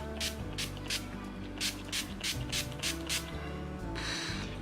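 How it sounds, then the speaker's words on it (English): Several short, quick hissing sprays of makeup setting spray from a pump mist bottle, close up, repeated in an uneven rhythm with a longer burst at the end. "I'm just going to spritz it all over my face."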